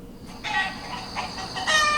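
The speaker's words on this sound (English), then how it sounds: "The chickens are hiding out." Chickens on a rural chicken ranch cluck in a busy, overlapping flock, steady and moderately near, with a brighter burst of calls toward the end.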